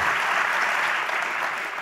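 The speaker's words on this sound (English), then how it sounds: "Big round of applause for our panel" Audience applause for a panel at an economic forum, a dense, even wash of clapping from a seated crowd that holds steady and tapers slightly at the end.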